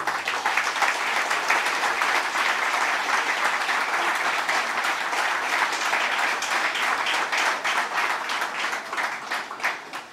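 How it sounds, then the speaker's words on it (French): Sustained applause from an audience at a book dedication ceremony, dense even clapping that carries on loudly for about ten seconds before easing slightly at the end. "Et ce sont des applaudissements qui lui appartiennent, encore une fois."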